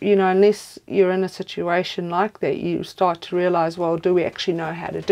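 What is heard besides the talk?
No everyday noises stand out.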